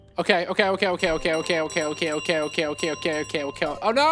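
In Untitled Goose Game, a handbell rings in a fast, even series of about a dozen bright strokes, loud and close, with a player briefly exclaiming at the start and end.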